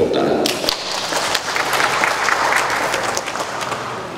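An audience at a polytechnic ceremony breaks into steady, sustained applause that fills the hall, with a voice briefly audible at the start.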